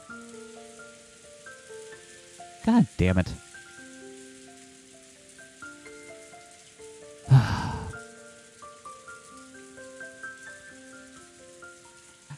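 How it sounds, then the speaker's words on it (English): Soft, steady rain from the Umineko When They Cry video game patters under gentle music, broken by a brief burst of sighing and a muttered curse around the middle. "she wrapped up in the soft sound of the rain"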